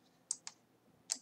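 Three quick, light keystrokes on a computer keyboard, soft and close in a quiet room, with no talking.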